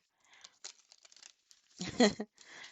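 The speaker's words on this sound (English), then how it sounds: "I'm trying to shuffle these as best as I can" A deck of tarot cards is shuffled by hand in short papery riffles and crinkly bursts, one louder flurry near the end, close up, with a voice intermittently in the background.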